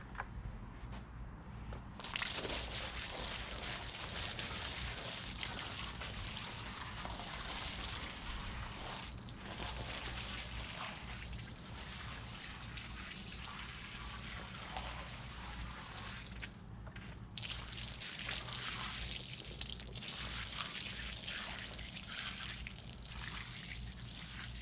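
Cleaning solution from a five-gallon supply doused over a woven wool rug, a long, continuous wet splashing and trickling that stays steady and close throughout.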